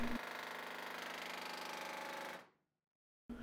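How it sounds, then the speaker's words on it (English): An air hammer with a dull chisel on sheet metal of a Chevrolet C10 cab floor hammers rapidly, rattling loudly and steadily for over two seconds, then cuts off into silence before briefly starting up again. "I'm using a dull chisel on an air hammer."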